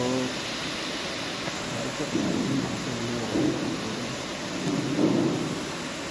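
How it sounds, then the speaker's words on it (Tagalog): Steady heavy rain hisses throughout, with muffled low voices murmuring beneath the downpour. "lakas na naman ng ulan"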